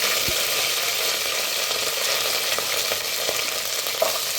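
Garlic and curry leaves fry in hot oil for a Sankara fish curry, giving a loud, steady, dense sizzle throughout with a few faint stirring clicks and no talking.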